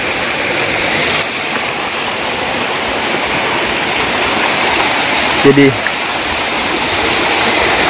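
A waterfall pours along a river at a mossy bathing spot, giving a constant loud rushing roar from start to finish, with someone speaking one brief word partway through.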